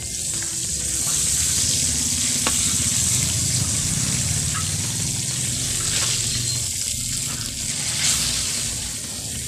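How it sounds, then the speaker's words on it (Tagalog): Milkfish (bangus) frying in oil outdoors gives a steady, close hiss and crackle that continues without a break for the whole stretch. "Kasi may piniprito ako dito sa labas eh"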